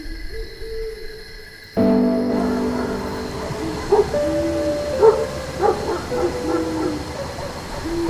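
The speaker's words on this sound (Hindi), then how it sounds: "बस कहीं कहीं कुत्तों के भौंकने की आवाज आ रही थी।" Dogs bark at night in a quiet village, a few short, scattered barks at a moderate distance over a steady droning hum. No speech.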